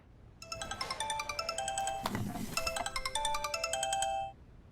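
A mobile phone rings indoors with a bright electronic ringtone in repeating tonal pulses, fairly clear and close, lasting a few seconds before it cuts off.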